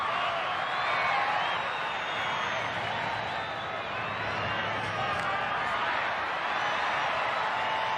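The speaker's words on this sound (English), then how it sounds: "Brisbane's home crowd loving this. This is what they came to see." Brisbane home crowd at a 1993 rugby league match against Souths roars and cheers steadily for eight seconds, a dense, sustained wash of voices without a clear break, with a commentator talking over it.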